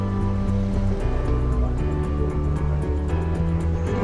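Sea waves wash steadily against the rocky shore at Sindhudurg Fort in Malvan, a continuous dense roar with no talk, layered with a low rumbling undertone throughout.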